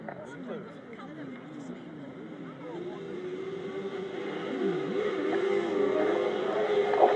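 Grasstrack racing motorcycles launch off the line at the start of a race, engines rising into a steady, building roar that grows louder over the seconds, with a commentator talking over the top throughout.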